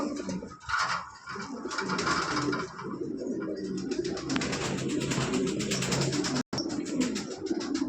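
Lahori pigeons coo repeatedly nearby, low throaty calls overlapping in a busy loft, with soft rustling and a brief dropout near the end.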